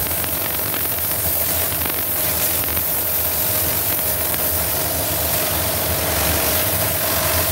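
A Karcher HDS 650 pressure cleaner runs continuously with a steady, loud hiss and a low mechanical drone, unbroken and with no talking.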